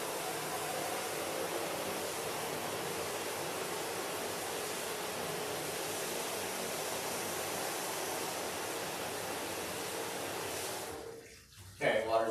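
Water runs steadily from a pet bathing system during a Pomeranian's bath, a broad continuous hiss that cuts off near the end, followed by brief splashing.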